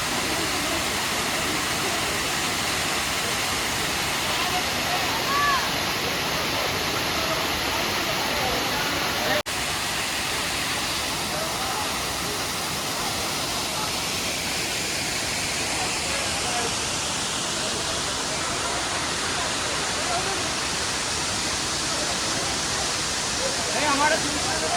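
Waterfall on Deomali Hill, a steady, loud, broadband rush of falling water that fills the whole stretch without letup.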